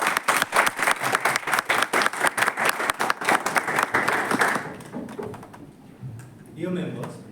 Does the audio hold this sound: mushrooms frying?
no